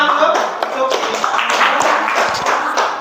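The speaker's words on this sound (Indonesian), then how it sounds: "Beri tepuk tangan untuk" Classroom applause after a student's comic art presentation at a teacher certification performance test, a dense steady patter of many hands clapping for about three seconds, with faint voices mixed in.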